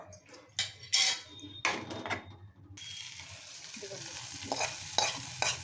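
Cashews frying and being stirred in a pan for millet khichdi, with scraping stirs and a soft sizzle that grows into a steady hiss after a few seconds.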